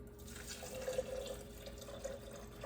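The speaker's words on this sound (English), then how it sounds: "I'm gonna add our water." Water runs quietly into a nut milk maker jug holding coconut flakes, a soft, steady trickle with light splashes, faint and close.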